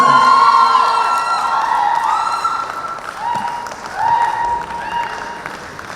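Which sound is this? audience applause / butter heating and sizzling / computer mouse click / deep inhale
audience applause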